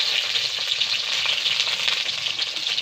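Water lily (shapla) bhewa fritters frying in hot oil, a close, loud, steady crackling sizzle with fine popping bubbles and no voices.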